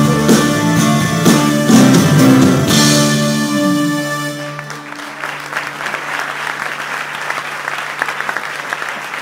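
An audience at a live music show in Spilimbergo breaks into applause as sustained musical tones fade out, then clapping continues steadily and fairly loud on its own.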